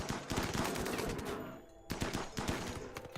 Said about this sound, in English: Bambi, shoot the Muffalo.